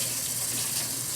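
Water runs steadily from a kitchen tap as fish fillets are rinsed under it, producing a close, continuous splashing hiss with no breaks.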